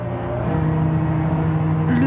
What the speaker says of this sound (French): Le bruit assourdissant du moteur et les yeux rivés vers la rampe.